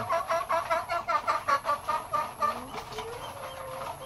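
Kabir breed chickens clucking in a quick rhythmic series of close, nasal calls of about a dozen pulses that then trail off into quieter farmyard background.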